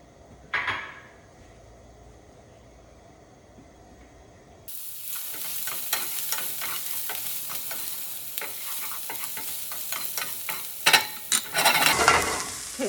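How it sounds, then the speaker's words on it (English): Two diced shallots sautéing in a pan: after a quiet start with a brief clatter, a bright, continuous sizzle begins and runs to the end, punctuated by repeated clicks and scrapes of stirring. "So I have 2 full shallots diced. We'll sauté this for a bit."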